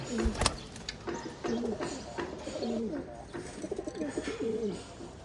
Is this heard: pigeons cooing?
yes